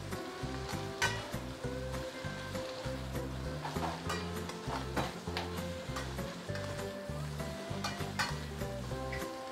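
Marrow melon stir-fries in a wok with a soft, continuous sizzle and scattered spatula clinks, fairly quiet under steady background music.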